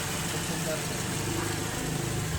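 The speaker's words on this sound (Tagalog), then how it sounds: "Pero parang bago pa rin po yung makina." A 2019 Suzuki Carry engine idling at 150,000 km: a steady, even mid-pitched hum heard up close, with a person talking over it.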